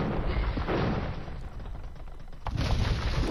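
Bombard cannons in a strategy game boom in a burst of heavy blasts and rumbling impacts, loud and dense amid battle noise, with one sharp report near the end.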